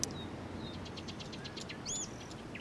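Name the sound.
birds chirping in the Life is Strange: Before the Storm video game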